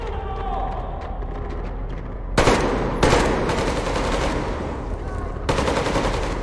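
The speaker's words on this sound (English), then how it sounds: "Covering fire for the Colonel. No saving ammo." Sustained machine gun covering fire in the video game Metro Exodus, loud continuous bursts with heavier volleys breaking in, dense and close over battle ambience.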